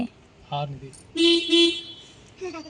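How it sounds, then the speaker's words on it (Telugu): A car horn sounds in two short, clear honks close by, with brief voices and quiet stretches between them. "horn car horn కొట్టమ్మా"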